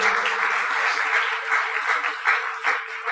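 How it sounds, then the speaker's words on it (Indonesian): Audience applause at an event, a steady burst of many hands clapping close by for about three seconds, dense and even with slight swells. "kita aplaus untuk perusahaan Tiansi"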